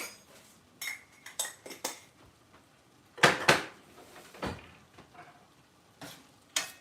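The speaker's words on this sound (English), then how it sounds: "Give it a mix." Utensil stirring ground turkey, lentils and mushrooms with added ginger in a pot, giving scattered clinks and scrapes in short bursts, a few sharper louder knocks midway, close and fairly quiet with no talking.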